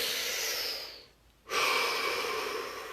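Slow, deep breathing close to the microphone during a guided muscle-release relaxation session: a long airy exhale trails off into a brief quiet pause, then a strong, full inhale follows, with no talking.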